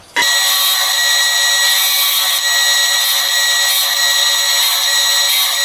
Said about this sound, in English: Now I'm going to take a 3/32 drill bit and do our first set of holes